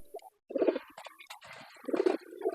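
Soft, low pigeon cooing in a pigeon house, short throaty bursts, fairly close, with some rustling and background noise between calls.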